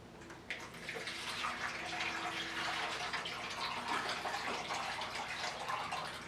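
Brine weighing 2.3 pounds, meant for injecting a venison ham, pours in a steady, continuous watery stream from about half a second in until the end, close and fairly loud, with no talking.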